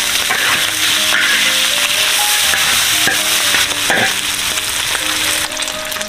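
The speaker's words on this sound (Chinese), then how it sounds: "生姜、蒜头炒香。 鸡肉炒香。" Chicken pieces stir-fried with ginger and garlic in hot oil in a wok, a loud, steady sizzle with repeated scraping stirs and clanks of the spatula throughout, no voices.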